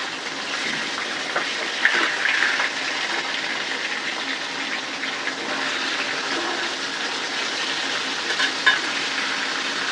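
Fish frying in oil in a new wok, a steady, moderately quiet sizzle with a few brief louder crackles, no talking.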